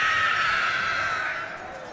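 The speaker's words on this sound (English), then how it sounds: "Can we use another Nazgul shout screech?" A Nazgul's shrill screech from Third Age Total War, a loud sustained wailing cry that holds steady for a moment and then slowly fades, standing alone without talk.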